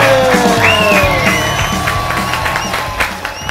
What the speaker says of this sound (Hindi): आपकी भरपूर तालियों में तशरीफ लाते हैं